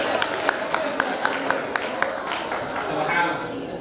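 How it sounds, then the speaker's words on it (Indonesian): Audience clapping in rhythmic unison for a mudir at an Islamic gathering, steady regular beats about twice per second, mid-distance, under a continuous crowd wash with a voice over it. "Beri tepuk tangan kepada mudirnya."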